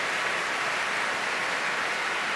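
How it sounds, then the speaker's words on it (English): Applause from a packed concert audience at the Royal Albert Hall after an orchestral performance, a steady, even roar of distant clapping blended into a constant hiss, heard alone without talk. "acknowledging the applause of a packed house here at the Royal Albert Hall."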